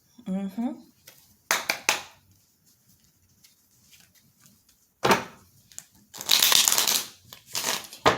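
Tarot cards are shuffled in short bursts, each a crisp riffling flutter, with a longer loud run near the end; a voice talks briefly between the bursts.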